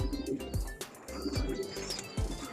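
Pigeons in a loft cooing in repeated low, throaty bursts at a steady rhythm, close by, with light chirps and rustling around them.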